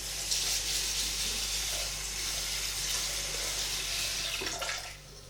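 Water runs steadily into a bowl of rice for a few seconds, a close, continuous splashing pour like a running tap, with a brief louder splash near the end before it tapers off.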